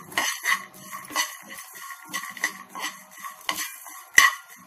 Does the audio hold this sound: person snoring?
no